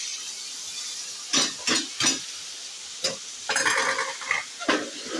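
Guar beans tipped into hot spiced masala, bursts of sizzling with a spoon scraping and stirring against the pan in short repeated strokes, close and clear with no talking.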